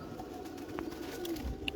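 Pigeons coo softly at a feeding session, a faint low burbling under a steady background hum, with a few brief chirps near the end.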